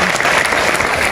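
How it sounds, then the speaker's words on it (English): Loud, dense audience applause fills a teachers' oath-taking ceremony hall, steady clapping from a large crowd throughout. "Let's give her a big hand of applause."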